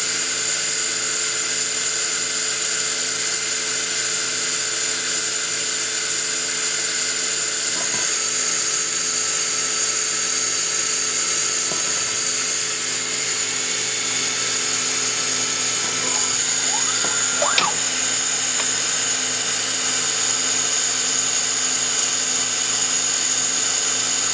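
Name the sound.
Citizen R07VI CNC Swiss lathe spindle running at 3,000 RPM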